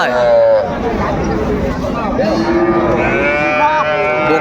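Friesian and Sahiwal cattle moo repeatedly at a busy cattle market, several long drawn-out lows close by over constant crowd chatter, with people talking throughout.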